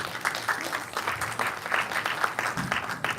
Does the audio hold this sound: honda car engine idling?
no